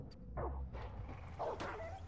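A dog yelping in Far Cry 5, a few short, high whimpering yips close by over a quiet game background, lasting only a couple of seconds.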